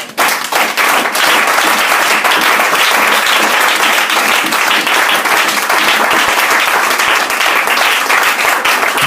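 A church congregation breaks into loud, sustained applause, a dense, steady wash of many hands clapping together that holds at full strength throughout with no pauses.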